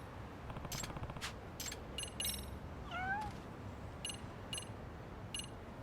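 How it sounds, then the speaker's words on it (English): A kitten meows in the video game Lost Judgment, several short high mews and a rising chirpy call spaced across quiet game ambience, soft and close, with a few clicky interface ticks between them. "But first I have to play with a kitten."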